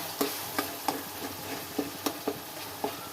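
Ridge gourd pieces frying in a spiced tempering, stirred with a series of sharp spoon scrapes and knocks against the pan over a soft continuous sizzle, close by and with no talk.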